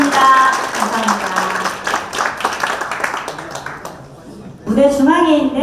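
Bursts of audience clapping greet guests at a book launch event, with a spoken announcement over the room and a fresh louder round of applause rising near the end.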